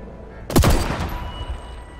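A single sniper rifle shot in the Deathloop video game, one sharp loud crack with a short rumbling tail fading over the next second and a half.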